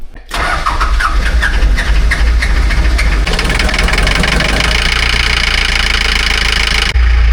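Diesel engine of an amphibious ATV running steadily and loudly up close, a constant low rumble with a rougher, knocking edge that carries through the whole stretch without pause.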